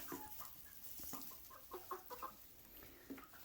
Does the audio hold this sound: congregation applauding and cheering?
no